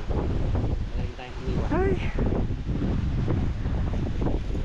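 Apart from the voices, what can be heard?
wind blowing outdoors on a farm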